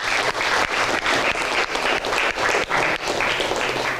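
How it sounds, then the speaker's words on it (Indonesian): A classroom of students gives a student group a round of applause, dense continuous clapping from many hands at close range, steady for about four seconds with brief dips. "Kita beri aplaus dulu."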